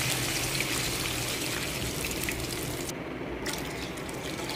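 Two cups of water pour into a cooking pan of tomato and red chillies for wheat bran upma, giving a steady, even splashing rush that lasts a few seconds with no talk.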